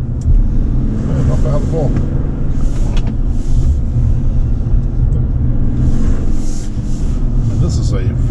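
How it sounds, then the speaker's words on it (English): A Chevrolet Silverado 1500 Duramax diesel LTZ 4x4 pickup, 2021 model, drives through an S-curve, its deep steady engine and road rumble running continuously beneath a man's brief remark from the cab. "diesel engine's responding well"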